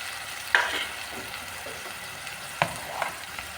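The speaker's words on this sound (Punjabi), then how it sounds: "ਮਸਾਲੇ ਨੂੰ ਉਦੋਂ ਤੱਕ ਭੁੰਨਣਾ ਜਦੋਂ ਤੱਕ ਇਹ ਤੇਲ ਨਹੀਂ ਛੱਡ ਦਿੰਦਾ" Masala spices roasting in oil in a pan while cooking arbi sabzi, a soft close sizzle with a few sharp stirring scrapes and clinks at intervals, no talking.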